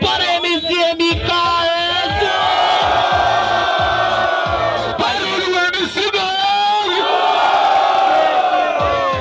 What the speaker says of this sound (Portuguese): Barulho para MCMK